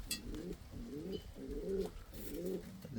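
Indian fantail pigeons cooing in repeated low, throaty rolling phrases close by, one bird aggressively contesting a nest box with another, with light rustling between calls.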